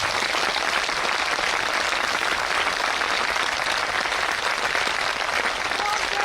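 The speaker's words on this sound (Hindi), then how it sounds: "सम्राट अशोक की स्मृति में उनके लिए एक जोरदार ताली बजा दें।" Steady, dense applause from an audience at the Latiya festival, honoring Emperor Ashoka, with sustained clapping that holds at an even level throughout without any talk.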